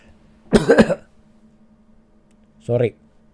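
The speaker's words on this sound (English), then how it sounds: "Sorry about coughing." Two separate coughs, close and fairly loud: a harsh double cough, then a shorter single one after a pause, over a low steady hum.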